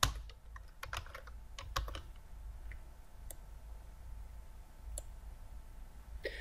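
A computer keyboard clicking as an Excel sum formula is typed, a close quick burst of keystrokes at the start followed by a few scattered single taps in a quiet room.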